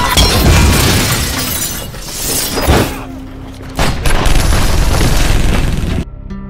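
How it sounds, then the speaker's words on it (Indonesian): A big explosion in an action film, with loud booms and shattering glass crashing over several seconds in repeated bursts, then cutting off sharply. "tombol delete yang langsung memicu ledakan besar"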